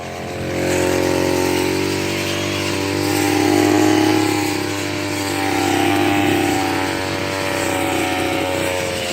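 A petrol lawn mower engine runs and revs, a loud close buzzing drone that swells and eases in several waves, with no voices over it.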